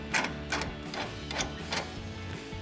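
A 21mm socket on a ratchet tightens a flag nut on a track bar bolt while a 3-inch suspension lift is fitted to a RAM 1500, with four or five bursts of quick ratcheting clicks at close range over a steady hum.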